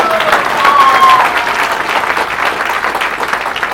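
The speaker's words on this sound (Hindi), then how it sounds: "इसमें एक बार फिर से ताली आप लोगों को इसलिए बजाना है" An audience at a gathering breaks into loud, sustained clapping, a dense and even wash of many hands that continues throughout.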